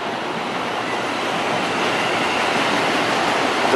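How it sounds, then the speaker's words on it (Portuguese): CPTM series 8500 electric train on São Paulo's Line 7 Ruby, a loud continuous broadband roar of the passing train, steady and close with no talk. "trem da série 8500, que atualmente são os trens aqui da linha 7 Rubi"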